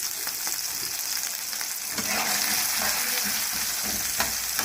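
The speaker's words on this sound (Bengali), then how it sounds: "ভাপা পিঠে বানানোর জন্য আমি ভেজিটেবলগুলো ভেজে নেব।" Vegetables with chili, peas and ginger-garlic paste fry in hot oil, a continuous close sizzle with occasional stirring scrapes and crackles throughout.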